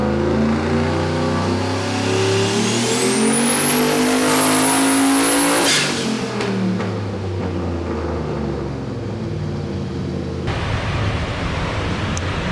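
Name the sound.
turbocharged car engine revving during a tuning run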